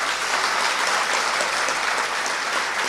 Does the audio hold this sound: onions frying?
no